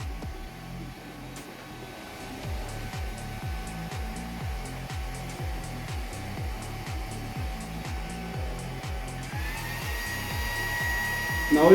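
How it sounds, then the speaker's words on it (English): A Bluarmor BLU3 A10 universal helmet air conditioner fan blows on turbo mode, a steady whirring airflow with a faint tonal hum that shifts slightly higher near the end, heard close up with no talking. "It is pushing good amount of air inside the helmet."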